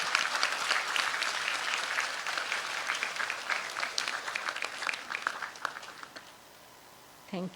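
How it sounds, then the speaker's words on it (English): An audience at a university convocation ceremony applauds the supervisors with sustained, dense clapping that thins out near the end before a brief final burst. "give a big lot of applause to our supervisors to show our gratitude"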